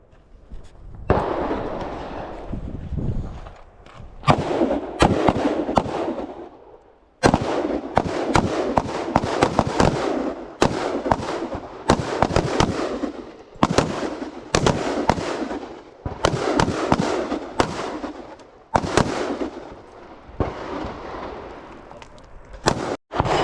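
Rifle shots at an outdoor shooting range during a Hawaii Rifle Association skill-builder drill, with many sharp, loud cracks fired in irregular clusters and short pauses between strings.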